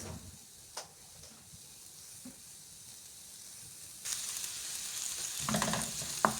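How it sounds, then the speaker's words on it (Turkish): A low frying sizzle that swells noticeably partway through as chopped onion hits the pan, with crackling pops over a steady hiss. "Hemen soğanımızı kavuracağız."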